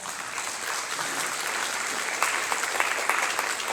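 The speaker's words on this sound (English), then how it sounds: "Let's give them a round of applause." Audience applause for partner agencies at a food bank's CalFresh forum, a steady wash of many hands clapping indoors, moderately loud and continuous, with a few sharper claps standing out toward the end.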